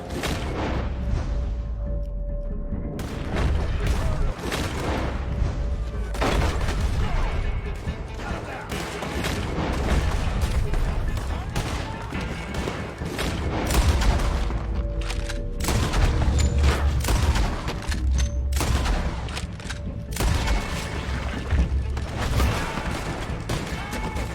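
Gunfire in Red Dead Redemption 2, dense bursts of shots and booms that keep going throughout as a loud, chaotic fusillade, with occasional game voices mixed in.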